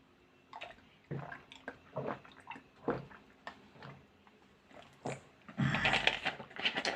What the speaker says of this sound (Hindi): तो इसलिए मैं थोड़ा सा क्या कर लेता हूँ, पानी पी लेता हूँ